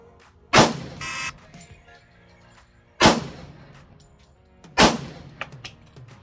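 Three pistol shots ring out during bullseye pistol practice at a firing range, each a sharp loud crack with a short decaying echo, spaced about two seconds apart.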